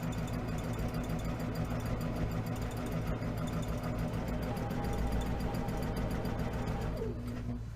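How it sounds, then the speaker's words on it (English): A sewing machine stitching quilt rows together runs in a steady, fast, buzzing whir close up, then slows and stops just before the end. "start sewing the rows together"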